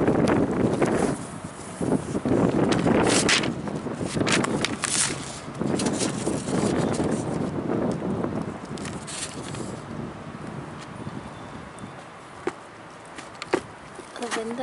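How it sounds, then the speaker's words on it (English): Strong wind buffets the microphone outdoors with heavy rumbling gusts that are loudest at first and gradually ease, while a person talks faintly underneath. "The wind is so strong."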